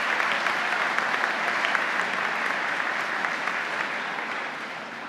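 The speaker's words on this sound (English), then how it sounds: "If we could give them a round of applause." A ceremony audience at the Maine Teacher of the Year event gives a round of applause for funders, an even, full wash of many hands clapping that holds steady and tapers slightly toward the end.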